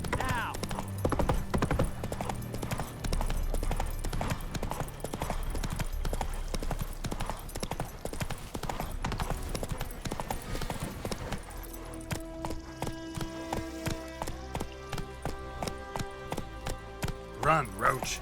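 The horse Roach gallops in The Witcher 3, with rapid rhythmic hoofbeats clip-clopping under game music and occasional spoken lines, then the hooves continue more distinctly against a different musical passage.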